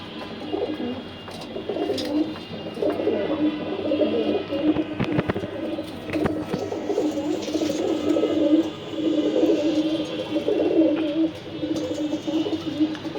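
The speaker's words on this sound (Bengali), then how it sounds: "এখানে একটা পাইট কবুতর আছে।" Racing pigeons coo steadily in a loft stock room, soft rolling calls repeating close by with wing flutters and a faint voice now and then.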